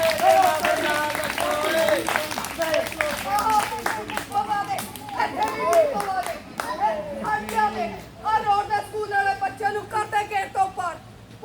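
Schoolchildren and audience clap at a street play at a government middle school, a loud burst of applause that breaks into rhythmic group clapping with children's voices mixed in.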